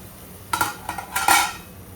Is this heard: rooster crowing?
no